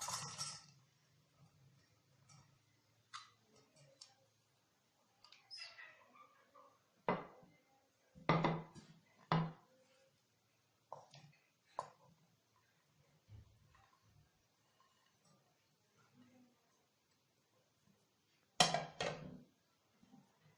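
Potato and onion pakora batter made with gram flour being mixed by hand in a bowl, giving scattered clinks and soft knocks in irregular bursts with quiet gaps between.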